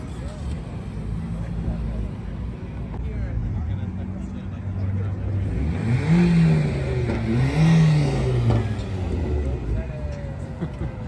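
An LS3-engined drift Scion FR-S revs repeatedly at close range, the engine note rising and falling over a steady idle, with people talking through it.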